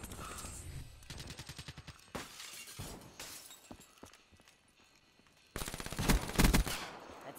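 Video game artillery and automatic gunfire, rapid rattling bursts of shots separated by short gaps, ending in a louder, denser volley of cracking impacts.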